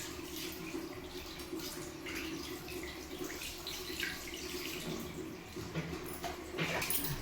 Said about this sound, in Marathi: पालथा मारून त्याच्यावर बी असं पाठीवर चांगलं गरम पाणी टाकायचं.